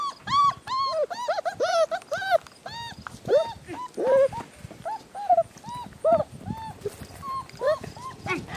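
Several puppies, including a brindle male and his littermates, cry and whimper in a steady stream of high, rising and falling yelps, close and fairly loud, with an occasional voice in the background.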